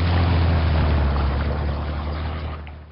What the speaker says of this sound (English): They're doing it slowly, but they're rolling.